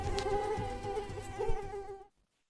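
A mosquito, the kind carrying dengue virus, buzzes with a steady high whine that holds close and clear before cutting off abruptly into silence.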